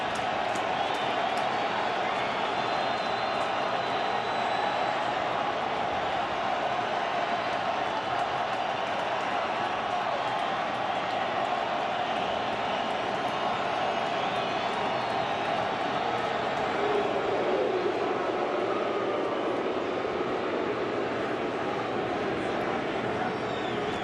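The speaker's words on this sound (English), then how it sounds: "I don't know how a crowd this soaked can make this much noise." A rain-soaked crowd at a 2008 World Series baseball game between the Rays and Phillies, roaring steadily throughout as a loud, continuous wash of cheering with a broadcast voice over it.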